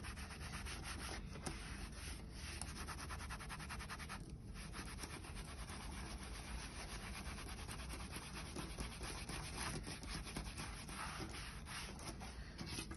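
Damp sponge with soap rubbed into a leather horse bridle, a steady close scrubbing and rubbing texture running without pause, with no talking.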